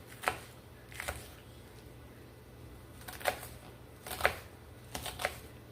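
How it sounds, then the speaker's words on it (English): A knife dices ingredients for saltfish on a board in a home kitchen, a handful of sharp, separate chops spaced irregularly over faint background hum. "You know, just dice it up"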